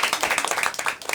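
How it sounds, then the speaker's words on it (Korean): Steady applause from a group of market merchants at a town hall meeting, with dense, fairly close clapping throughout. "박수 한번 부탁드리겠습니다"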